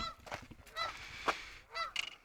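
Nesting pairs of geese honk in several loud, nasal bursts near a Coast Guard icebreaker in Mackinaw City, calls overlapping irregularly with short pauses between.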